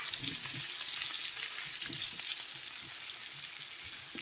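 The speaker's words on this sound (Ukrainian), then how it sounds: "Вона смажиться у нас на середньому вогні" Steady frying sizzle from young potatoes in a hot pan over medium heat, close and continuous, with a few soft scraping stirs underneath.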